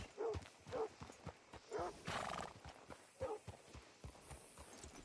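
A horse's hooves clop in a slow, steady walking rhythm in Red Dead Redemption 2, close by, with a loud snort or whinny partway through.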